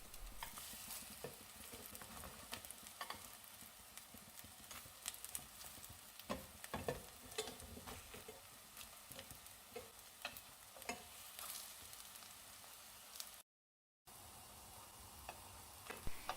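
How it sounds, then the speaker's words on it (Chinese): Flower-and-leaf batter fries in a stainless steel pan, a quiet steady sizzle broken by scattered clicks and scrapes of stirring, with a brief silent gap near the end. "煎到微黄就可以了"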